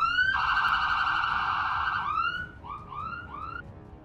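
An ambulance siren in the Roblox game Escape The Chocolate Factory gives one long, loud, steady tone that breaks into several quick rising whoops and fades slightly toward the end.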